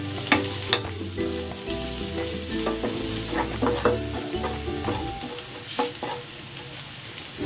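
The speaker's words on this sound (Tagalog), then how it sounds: "Magigisa na ako ng bawang. At ng sibuyas." Garlic and onion sauté in hot oil, making a steady close sizzle broken by light spatula scrapes and taps on the pan for a pork belly dish, with no voices.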